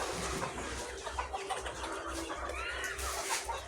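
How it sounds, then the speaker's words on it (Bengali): Three-month-old chickens cluck continuously at the Sabuj Bangla poultry hatchery farm, with many overlapping calls over a low, steady barn hum and no talking. "পোলট্রি হ্যাচারির ফার্মের 3 মাসের মুরগিগুলো।"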